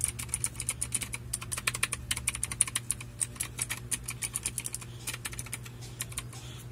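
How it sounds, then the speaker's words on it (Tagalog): Rapid, irregular clacking of keys on a noisy mechanical computer keyboard, fairly close and steady for several seconds over a low constant hum, with no talking. "mechanical keyboard"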